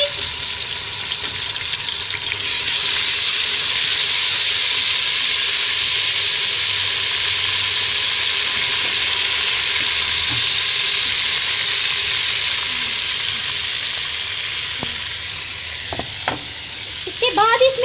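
Onions with ginger garlic paste frying in a pot for harees, giving a loud, steady, close sizzle that holds for most of the stretch, then eases before a few utensil scrapes near the end, with no talk.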